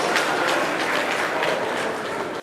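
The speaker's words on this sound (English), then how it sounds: "Shall we give them a bigger round of applause" An audience at a company launch event claps steadily, a dense wash of applause from many hands, loud and sustained throughout.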